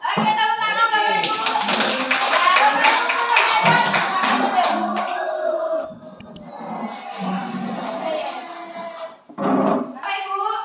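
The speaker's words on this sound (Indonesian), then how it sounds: "Oke, tepuk tangan Bapak Ibu." An audience at a school collaboration event on guidance and counselling claps along, dense rhythmic hand clapping filling the room for several seconds, fading and then briefly surging again near the end.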